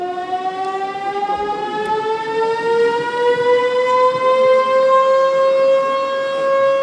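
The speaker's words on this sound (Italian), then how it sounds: "risuona l'urlo delle sirene dell'allarme aereo." A long air raid siren wails alone over Monte Cassino, Italy, its tone rising slowly and holding steady at a loud, constant level.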